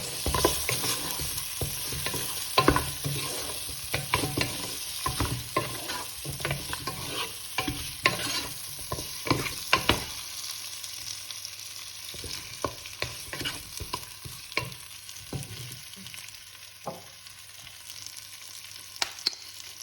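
Eight minced-meat meatballs frying in a pan for a rice and tomato dish, a continuous close sizzle broken by frequent sharp pops and scraping stirs, busier in the first half and thinning later, no talk.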